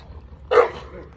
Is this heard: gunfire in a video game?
no